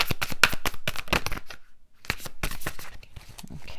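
Tarot cards riffled and shuffled by hand in quick bursts of crisp, close flutters, stopping for a short pause before resuming.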